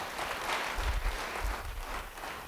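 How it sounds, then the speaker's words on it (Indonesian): A church congregation applauding after a sermon's call, a broad wash of many hands clapping at a distance, soft and diffuse with low rumbling thumps underneath. "Beri tepuk tangan yang bilang amin"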